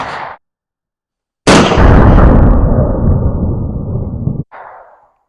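A single loud gunshot fired at a water heater, with a sharp attack and a long, roaring broadband tail lasting about three seconds, then a brief fainter sound afterward.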